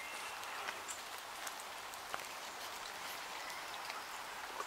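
Steady rain falling outdoors along a street shortcut, an even broadband hiss with a few faint drop ticks, constant throughout with no talk.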